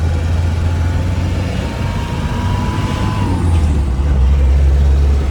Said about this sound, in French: Il m'a l'air de très bien accélérer ce 4x4